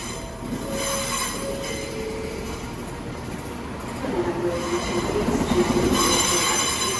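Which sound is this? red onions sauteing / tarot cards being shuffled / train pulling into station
train pulling into station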